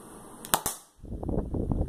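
A Nerf toy gun fires at a target: two quick sharp pops close together, a brief pause, then a rattling clatter as the dart strikes and settles.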